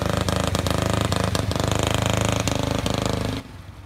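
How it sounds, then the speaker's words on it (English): A supercharged, intercooled 420cc fuel-injected go-kart engine runs rough and sputters with stuttering misfires and uneven bursts, loud and close, then cuts out abruptly near the end. "So the sputtering you hear is the electronic fuel injection losing sync with the crank position sensor."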